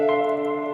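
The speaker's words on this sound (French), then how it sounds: "On va lui mettre la reverb." A sustained synth melody in a hardstyle or phonk production, drenched in a church-like reverb, rings with a smooth, lingering tail for under a second.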